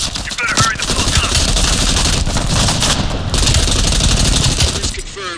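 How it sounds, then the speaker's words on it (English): Heavy machine gun fire in Call of Duty: Black Ops Cold War, a loud, dense and continuous rattle of rapid shots that runs the whole time with little break, mixed with battle noise. "Heavy MG on the ridge."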